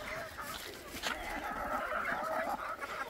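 Hen clucking steadily with chicks peeping around her in a backyard coop, a busy mix of close clucks and high chirps running through the whole stretch with no talk.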